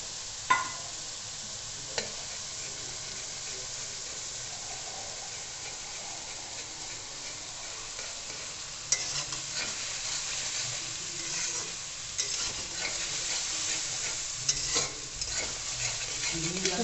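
Beaten egg frying in a pan for quick chow mein, a soft steady sizzle with occasional spatula scrapes and clinks as it is stirred, fairly quiet and close.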